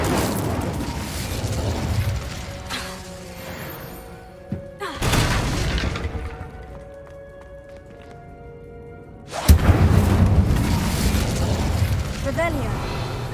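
Fire spell cast in Hogwarts Legacy, giving a sudden loud burst of flame and crackle that stands out from quieter game ambience and music, with a second blast shortly after.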